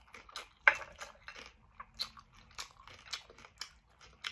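Someone bites into crunchy crispy pata, deep-fried Filipino pork knuckle, close to the mic, with sharp crackly crunches followed by soft repeated chewing, quiet and without talk.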